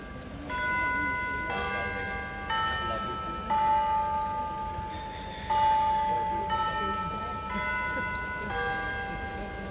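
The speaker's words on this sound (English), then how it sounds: "I'll stop for 2 seconds so you can hear the bells" Church bells of St. Patrick's ring out a slow melodic sequence, each struck note sustaining with a clear metallic hum, heard at moderate distance over faint background noise.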